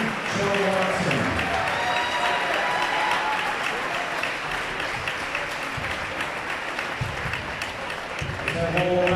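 A gym crowd at a boys basketball senior night applauds a senior player, continuous clapping with cheers and muffled voices mixed in, steady and fairly loud throughout.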